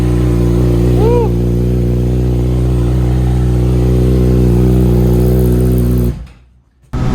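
A Yamaha R6 sport bike sits in neutral while its engine runs loud and close in a steady, droning rev, then cuts out abruptly near the end before a brief burst returns.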